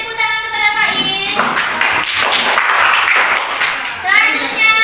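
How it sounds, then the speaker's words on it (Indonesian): Classroom of young pupils breaking into loud applause, a dense burst of clapping for a few seconds, bracketed by a voice chanting before and after. "Tepuk tangan"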